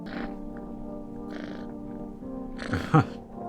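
A cat being petted in the horror video game No, I'm Not a Human gives a low, steady purr with a few soft vocal chirps, then a brief louder meow-like cry near the end, up close.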